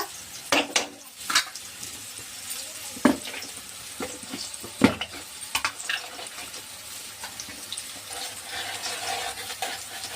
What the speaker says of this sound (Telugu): ఇలా కలుపుతూ ఉంటే రెండు వైపులా వేగుతాయి